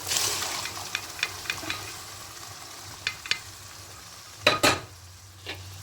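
Boiled potatoes and peas go into hot oil in a pan for vegetarian ghugni, bringing soft sizzling under a low steady hum, scattered spatula taps and a couple of louder scraping stirs near the end; no one speaks.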